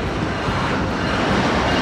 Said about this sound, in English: this train is moving very slowly